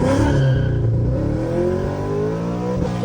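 A 2021 Chevrolet Camaro SS with upgraded heads and cam, a naturally aspirated build of over 700 horsepower, revs loudly up close. The engine note climbs steadily, then eases slightly over a few seconds.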